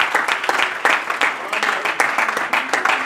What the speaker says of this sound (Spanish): Give the Lord a round of applause right there where you are.